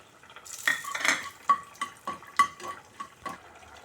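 Almonds frying over a low flame for a sweet tomato pachadi, with a spoon clinking and scraping against the pan in a series of distinct taps over a soft background sizzle.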